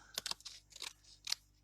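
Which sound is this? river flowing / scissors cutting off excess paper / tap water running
scissors cutting off excess paper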